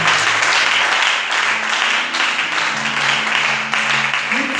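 A church congregation applauds loudly and steadily, a dense wash of many hands clapping together at close range, with a few voices faintly audible beneath it.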